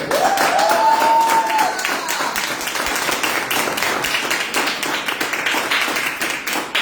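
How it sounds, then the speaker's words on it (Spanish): Church congregation applause greets a Sunday service, a dense patter of many hands clapping at close range for several seconds, with a brief tonal whistle near the start and some voices mixed in. "este aplauso es para ustedes"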